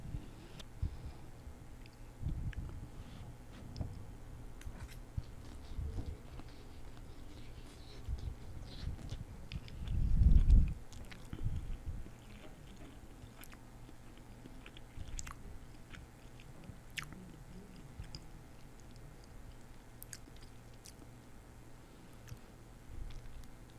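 Close, quiet chewing of hot and spicy beef, soft moist bites and crunches repeating unevenly, with a louder burst of mastication midway.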